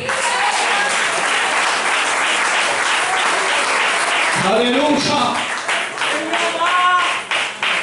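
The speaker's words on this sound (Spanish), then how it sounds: "Denle un aplauso al" Church congregation applauding during a worship service, loud dense clapping that carries on throughout, with voices calling out over it.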